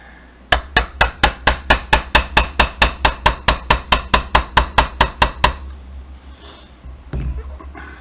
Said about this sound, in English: So I'm going to take my hammer.